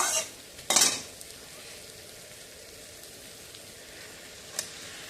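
Cauliflower and other vegetables fry with added spices in a pan for a cauliflower biryani. A quiet, continuous hiss runs throughout, with a sharp clatter of a utensil near the start and another brief clink later.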